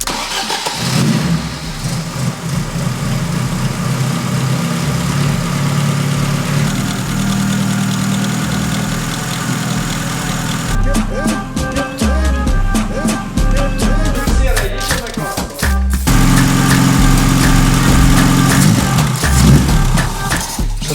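A car engine idles steadily and loudly with a low, even rumble, briefly rising in pitch partway through before settling back.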